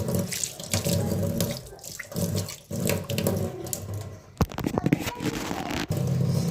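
Water pours steadily from a tap into a sink, a continuous splashing stream with a few clanks and scrapes partway through.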